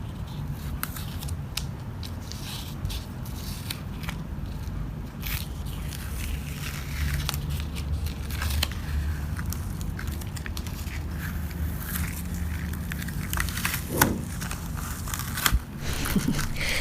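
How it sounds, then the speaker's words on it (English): Washi tape being peeled off art supplies: a long run of close, soft crackling and scraping strips, with sharper tearing snaps now and then against a steady low hum. "Peeling off the washi tapes."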